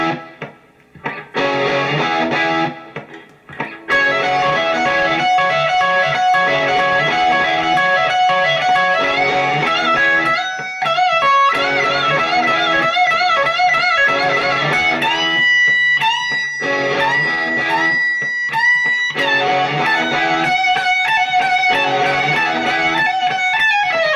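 Distorted electric guitar plays a lead solo, loud and sustained with bent, vibrato-laden notes and fast runs over a dense rock backing, without any voice.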